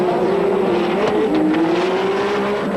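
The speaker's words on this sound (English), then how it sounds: "The red, white and blue Nissan carving through the traffic." Racing car engine of the red, white and blue Nissan on the Mallala circuit in South Australia, a loud continuous high whine with shifting pitch, a car passing close and accelerating hard through traffic.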